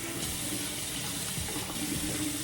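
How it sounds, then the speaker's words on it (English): Tap water runs steadily into a sink while someone rinses their face at night, a close, continuous rushing splash with no voices. "I want to fully rinse my face."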